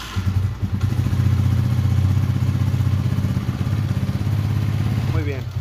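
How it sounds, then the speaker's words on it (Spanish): An Italika DT125 Sport motorcycle engine idles close by with a steady, rapid low-pitched putter and mechanical clatter, warming up before an oil change, while someone talks over it. "el procedimiento comenzará arrancando el motor durante 5 minutos para que este"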